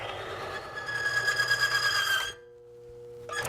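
A roller-type oil friction test machine spins with Mobil 1 synthetic oil, giving a steady whirring, whining mechanical drone for about two seconds before it stops abruptly, leaving near silence and then a short renewed noise.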